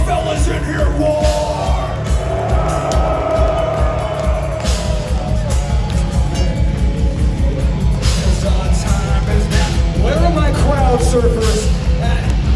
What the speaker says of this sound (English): Now let me hear the fellas in here roar.